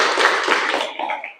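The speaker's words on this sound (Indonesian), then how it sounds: "Oke, tepuk tangan dulu dong." Audience in a classroom or lecture setting clapping together, a dense burst of hand claps that fades out over about a second and a half.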